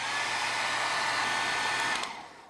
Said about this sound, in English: This hair dryer will basically speed up time in the drying process.